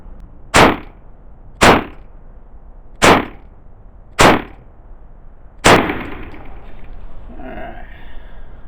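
An STI Staccato C2 pistol fires five sharp, loud shots at a bullseye target, evenly spaced about a second apart with a short pause before the last, each with a brief ringing decay.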